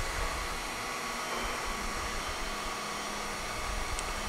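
Haas VF-3 CNC vertical machining center with a 7,500 RPM spindle running, a steady broadband whir with a faint constant tone, no voices.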